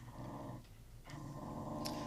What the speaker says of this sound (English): Oh, this cute little Shiba!